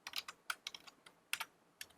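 Code is typed on a computer keyboard in short bursts of crisp, close key clicks, with irregular pauses between taps and no voices.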